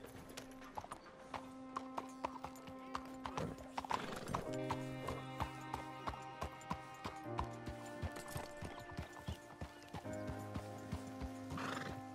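Horse hooves clip-clop in a steady rhythm over a sustained musical backdrop in Red Dead Redemption 2, with a horse neighing near the start and again near the end.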